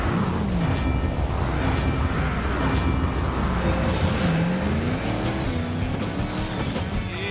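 Race cars from the Cars (Lightning McQueen) video game roar past at speed, with engines whining and tires squealing. The loud, dense racing noise continues without pause, and no one speaks.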